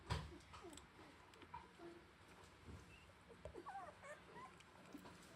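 Several puppies whimper and yip softly in short, high, wavering cries scattered over a quiet, close-up indoor background.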